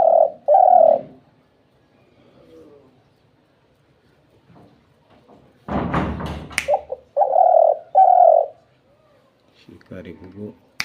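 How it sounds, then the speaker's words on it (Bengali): A hunting decoy dove calls again and again: paired low coos sound close and clear, with a short burst of talking and rustling between the call groups. "শিকারি ঘুঘু 2 ডাক 5 ডাক দিয়ে ঠান্ডায় যায়"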